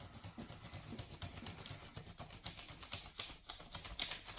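A pencil rubs back and forth over paper laid on a leaf, giving a quiet, continuous scratchy rasp with soft irregular strokes.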